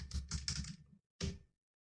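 Quick bursts of keystrokes sound on a computer keyboard as a word is typed into a web search, with close clicking, a short pause and then a final few taps.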